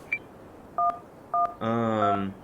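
A phone dials emergency services in the video game Accident: three short DTMF keypad tones, evenly spaced and fairly faint, followed by a longer ringing call tone, with no talking.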